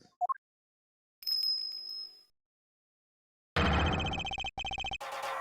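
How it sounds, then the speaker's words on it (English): A chiming bell rings in the video game Ace Attorney Investigations, a clear sustained ding followed later by louder bright game sound effects and music stabs, with silent gaps between. "That sound. Is that a bell?"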